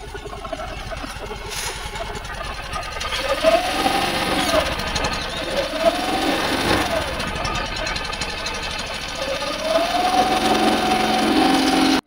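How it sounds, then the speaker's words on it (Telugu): A 2024 Yamaha Fascino 125 Hybrid scooter's exhaust note: the engine idles, then rises in three revving sweeps that fall back between them, recorded close and fairly loud. "ఈ స్కూటీ యొక్క ఎగ్జాస్ట్ నోట్ అయితే ఒకసారి వినండి"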